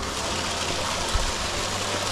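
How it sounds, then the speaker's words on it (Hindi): A swollen mountain stream runs high after a night of rain, a broad steady rush of water close by, even and unbroken with no talk over it. "पर आपको ये पानी दिखाता हूँ पहले कि रात को बारिश से कितना ज़्यादा पानी आ गया था फ्लो में"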